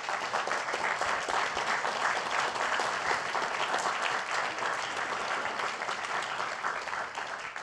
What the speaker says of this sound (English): So give this panel a round of applause.